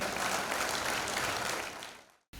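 An audience at a televised talent show finale applauds a child performer. Dense, fairly faint clapping fades out over about two seconds and then cuts off abruptly.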